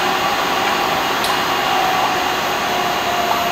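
A Mabru marine air conditioner runs with its compressor and fan, a steady close whirring drone with an even hum and no break through the short stretch.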